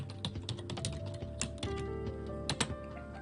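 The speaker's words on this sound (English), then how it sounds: "my keyboard's acting up" Rapid, uneven clatter of typing on a computer keyboard runs throughout, close and fairly loud, with occasional sharper key strikes over a steady background hum and no talk.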